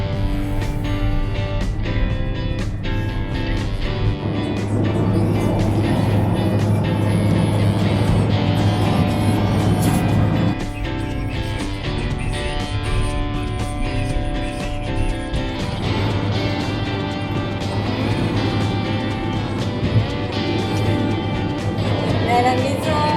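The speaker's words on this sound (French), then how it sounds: "c'est moi qui conduis le camion" A truck driven along a road, heard from inside as a steady engine drone and road rumble. Its pitch shifts a little as the speed changes, and it stays loud and continuous throughout.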